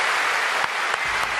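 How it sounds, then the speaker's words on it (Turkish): A studio audience applauds to send off performer Sefa Doğanay at a televised talent show, dense, loud, steady clapping filling the short stretch. "Sefa Doğan'ı alkışlarla uğurluyoruz"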